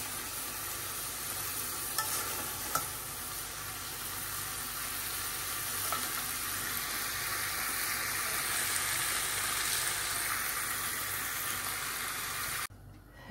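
Hot water is poured into chicken curry frying in oil, and it gives a loud, continuous sizzle and steamy hiss. The sound holds steady for several seconds and then cuts off abruptly, with no talking.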